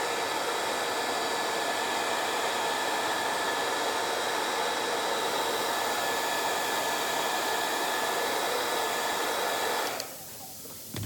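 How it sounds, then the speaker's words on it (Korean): A hair dryer heats an iPhone X screen for replacement, blowing a loud, steady, even roar for about ten seconds before switching off abruptly near the end. "집에 있는 거 가지고 사용할 수 있는 거는 헤어 드라이기 정도라고 보시면 되고요"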